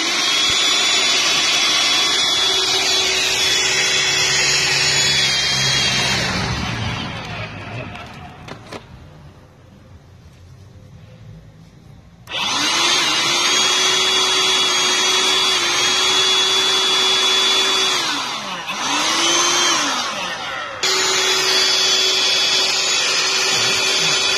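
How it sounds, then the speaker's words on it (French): A vacuum cleaner fitted with a hose cleans out an injector well, its steady whine loud and close, cutting off for a few seconds midway, then starting again with brief pitch dips as the hose is moved. "Ensuite, on va utiliser un aspirateur."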